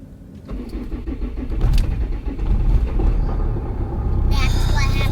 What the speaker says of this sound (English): is my car really not starting?